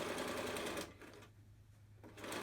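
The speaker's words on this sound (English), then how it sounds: "I'm going to sew across the elastic, and then I'm going to back stitch across it again, and then sew forward again" A sewing machine stitches across elastic on a fabric face mask, running in a loud close whir, pausing briefly mid-seam for a back stitch, then starting again.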